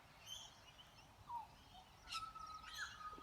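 Lorikeets and other birds calling faintly outdoors at a Sunday morning feeding, with scattered chirps and a few sharper squawks over quiet background noise.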